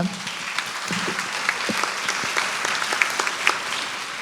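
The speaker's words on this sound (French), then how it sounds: "On vous applaudit." Audience applause closing a panel discussion on digital technology in farming and food at Futurapolis Santé 2022, a steady, moderately loud patter of many hands clapping together for about four seconds with no talk over it.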